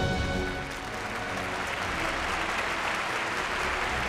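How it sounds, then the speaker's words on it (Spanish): Steady crowd applause and ovation as a revolutionary leader enters a city, a dense, continuous roar of many hands clapping with no break throughout. "Y en medio de ovaciones y aplausos"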